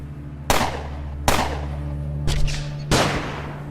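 Four sharp, loud flashbang grenade blasts in a video game, each a sudden crack with a short ringing decay, spaced under a second apart over a steady low background hum.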